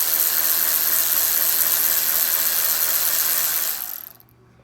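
A socket ratchet works a bolt on a C5 Corvette A-arm, with a box end wrench holding the other side, giving a continuous close mechanical whirring that fades out at the end.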